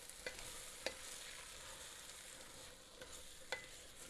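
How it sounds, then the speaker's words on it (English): Food being stirred in a hot pan, a steady low sizzle running throughout with a few soft scraping clinks of a utensil against the pan, close and fairly quiet. "I'm just going to give this a little bit of a stir."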